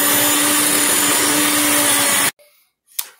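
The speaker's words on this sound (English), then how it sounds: "So thank goodness I have a blender. So we're actually going to puree the spinach." A kitchen blender purees spinach for gnocchi, a loud, steady high-pitched whir that runs for about two seconds and then cuts off abruptly, followed by a brief faint clatter.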